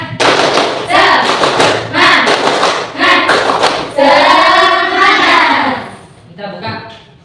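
A classroom of students performs a rhythmic spirit clap in bursts of loud, sharp clapping, with voices chanting along throughout.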